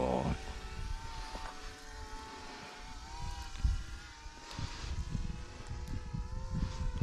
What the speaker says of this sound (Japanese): あ、ドローン飛んでるよ。